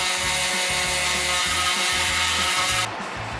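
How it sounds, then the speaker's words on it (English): Bondo body filler on an RV is sanded with a steady, loud, close abrasive rasp, its rough back-and-forth strokes continuing without pause before easing off near the end. "after I sanded the Bondo"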